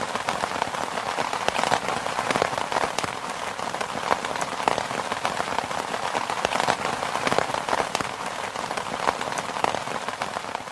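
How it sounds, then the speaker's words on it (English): Rain falls steadily through the night on a bivvy shelter, a dense, even patter of drops close overhead with no voices. "It rained all night long."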